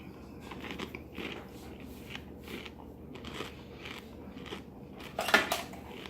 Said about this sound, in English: I'm just going to go ahead and try a piece of it without rehydrating it